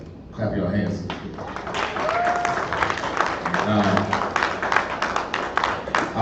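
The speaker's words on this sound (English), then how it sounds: "Clap your hands." Audience applause at a women's music and fashion showcase, a dense burst of clapping from a crowd that swells and carries on steadily for several seconds, with voices mixed in.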